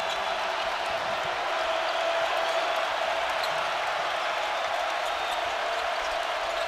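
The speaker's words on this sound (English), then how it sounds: "Crowd to its feet with the Hogs on defense." Arkansas Razorbacks basketball crowd in an arena roaring steadily as fans rise and cheer during defense against Tennessee, a broad sustained din with faint squeaks and bounces beneath.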